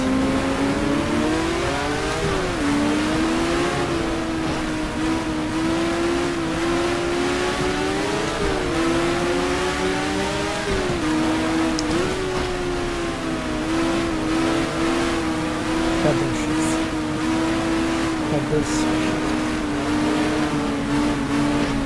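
Race car engines in the GTR2 racing game drone continuously through a Ferrari duel at Mexico City, the pitch rising and dipping with shifts and throttle changes, loud and steady with no talk.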